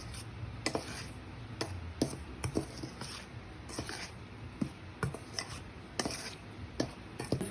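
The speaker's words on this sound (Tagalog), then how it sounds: "we're gonna mix it together" Dry cornbread ingredients (cornmeal, salt, baking soda and baking powder) being stirred together in a bowl, giving soft scraping strokes punctuated by repeated sharp utensil taps and clinks against the bowl, fairly quiet and close, with no talking.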